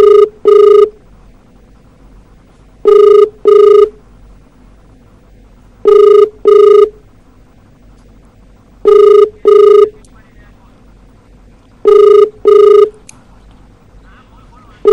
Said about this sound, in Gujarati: આપ જે પ્રમાણે જોઈ રહ્યા છો કન્ટિન્યુઅસ રિંગો વાગી રહી છે, પરંતુ તે ફોન નથી ઉઠાવી રહ્યા